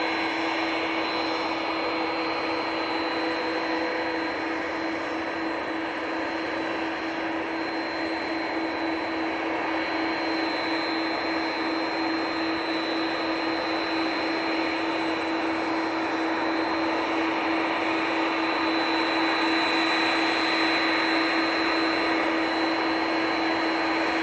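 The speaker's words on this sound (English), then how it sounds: "Virgin Atlantic is coming over" A Virgin Atlantic airliner passes overhead at Manchester Airport, a continuous loud jet roar and whine holding steady and swelling slightly toward the end, with no talking.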